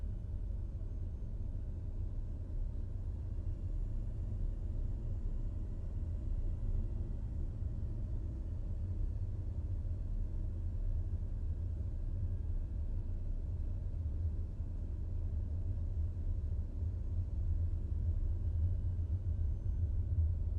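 A taxiing airliner in Microsoft Flight Simulator 2020 produces a steady low engine rumble under added thrust, constant and fairly quiet throughout with no voices.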